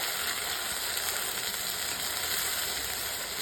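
Tomatoes and curry leaves sauté in a pan for a pidi karunai kara kuzhambu, giving an even, dense hiss of frying throughout with no stirring strokes or voices.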